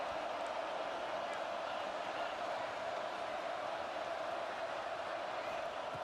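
A stadium crowd roars steadily at a college football video game matchup between LSU and Georgia during a red zone defensive stand. The sound is a dense, sustained wall of noise with no breaks.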